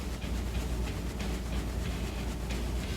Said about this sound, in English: Dude, why did I hear a train?